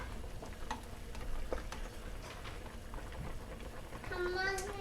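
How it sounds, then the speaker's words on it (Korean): A spatula stirring simmering pork trotters (jokbal) in a pot, soft scraping clinks and taps over a low bubbling simmer, with voices talking throughout. "중간중간 한 번씩 주걱으로 밑에 눌지 않게, 들어붙지 않게 이렇게 한 번씩 저어주면 돼요"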